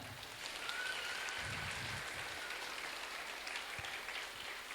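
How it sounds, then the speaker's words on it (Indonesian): Scattered applause for the ceremony officers at an Indonesian Independence Day flag ceremony, faint and distant outdoors, a soft patter of clapping that holds steady for a few seconds. "Tepuk tangan untuk para petugas upacara."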